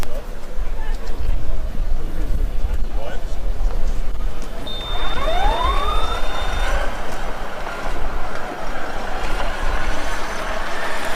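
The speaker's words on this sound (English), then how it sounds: "Hear the track assistant sound from the Freiburg car" During a Formula Student Germany 2023 skidpad run, the Freiburg car's track assistant emits a synthetic whine that rises in pitch midway, along with a brief steady high tone, over ongoing background noise and voices.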